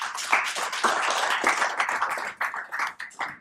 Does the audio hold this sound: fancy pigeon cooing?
no